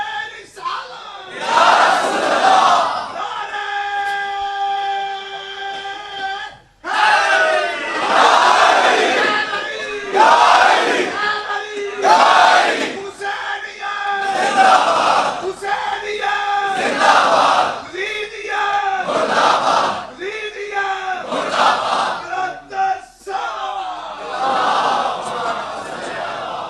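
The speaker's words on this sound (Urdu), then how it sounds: "آپ مل کر نعرہ لگائیں گے اور آپ کی بات خانہ کعبہ تک جانی چاہیے" A large crowd at a religious gathering chants Islamic slogans, nara-e-takbeer and nara-e-risalat, in loud, rhythmic call-and-response. A lone voice leads each call with a sustained tone, and the massed chorus roars back in repeated bursts.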